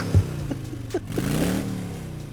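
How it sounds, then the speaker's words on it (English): A Valkyrie vehicle engine from a Shadowrun tabletop session revs up once, then holds a rising, throaty drone for about a second and a half before easing off. Close and moderately loud, with no talk. "Can you give it a little more gas? I want to hear that."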